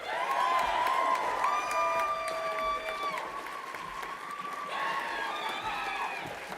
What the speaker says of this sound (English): another huge round of applause for all of those graduates